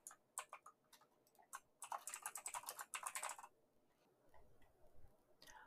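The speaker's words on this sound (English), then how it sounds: "We will type in Udemy's address as an example." Someone types a web address on a computer keyboard, with quick, crisp key clicks in bursts, close and fairly quiet, followed by a short pause and a few softer taps.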